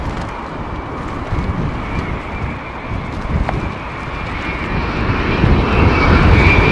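A British Airways Airbus A380 jet at Heathrow in stormy, gusty weather, giving a steady broadband roar that swells louder toward the end, mixed with wind rushing over the microphone.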